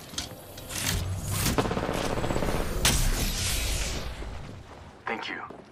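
Gunfire in a sci-fi shooter video game with shields and energy ammo, with dense bursts of shots and impacts running throughout, loud and close, mixed with game effects and a brief sharp blast near the end; a player talks over it.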